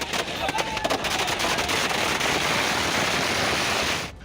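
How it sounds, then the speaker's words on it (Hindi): Fireworks set off in the middle of a street by party workers during a celebration in Asansol, a dense crackling roar of bursts filling the air continuously before stopping abruptly. "जहां पुलिस की मौजूदगी में बीच सड़क पर टीएमसी कार्यकर्ताओं ने जमकर आतिशबाजी की।"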